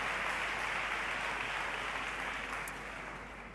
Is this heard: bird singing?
no